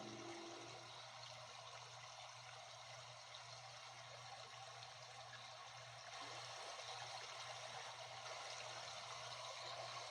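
Steady rushing river water flows continuously with a low hum underneath, an even, faint outdoor wash with no voices.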